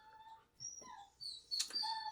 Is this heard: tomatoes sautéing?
no